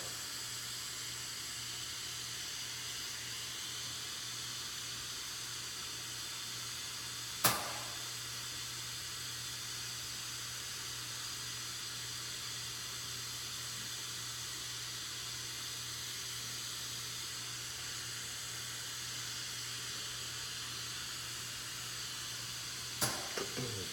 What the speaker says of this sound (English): And now I'm just gonna melt this, keeping it horizontal, keeping just the face in the flame, keeping it turning